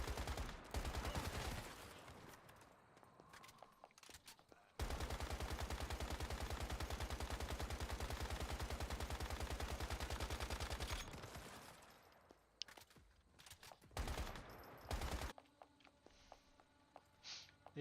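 Rapid gunfire from the Once Human video game, aimed at a monster, comes in bursts and then as a long, dense, unbroken automatic stream, followed by scattered shorter volleys, loud and close.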